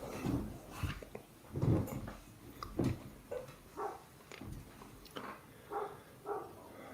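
A dog barking outdoors early in the morning, a series of muffled, irregular barks and yelps spaced roughly every second, moderately distant and fairly faint with no talking.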